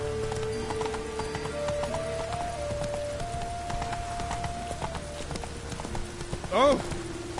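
Horse hooves from The Witcher 3 game trot in a steady clip-clop rhythm close by, over ambient music with sustained tones. A horse whinnies briefly near the end.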